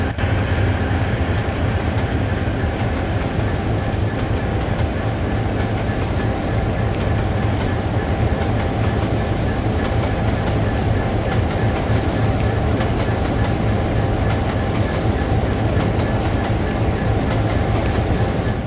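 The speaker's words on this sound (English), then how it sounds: "shortly after midnight, Marie went by with the westbound Lakeshore Limited" In a train simulator game, the westbound Lakeshore Limited passenger train passes with a continuous loud rumble and clickety-clack of wheels on rails, steady throughout.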